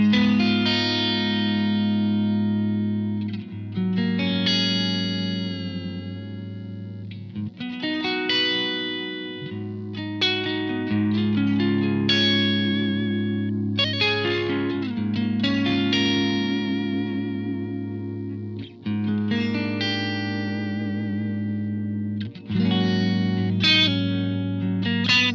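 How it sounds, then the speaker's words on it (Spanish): An electric guitar through a Blackstar ID:Core V3 Stereo 40 amp with delay at full feedback and nearly full mix, playing melodic notes that smear into dense, repeating echoes, heard loud and continuous throughout. "Un poquito más de feedback por aquí. De hecho es todo el feedback disponible y casi todo el mix."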